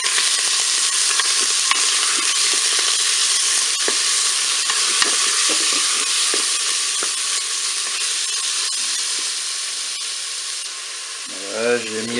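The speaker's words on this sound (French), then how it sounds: "Je vais faire revenir mes steaks hachés qu'on persille." Minced beef steaks sizzle and fry steadily in a preheated Cookeo multicooker on its browning setting, a loud continuous crackling hiss that runs throughout, with a brief clatter near the end.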